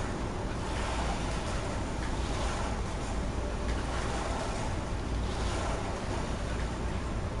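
A character swims through water in the video game Kena: Bridge of Spirits, with a continuous rushing wash of water and a breezy hiss that stays steady and close throughout, without any talk.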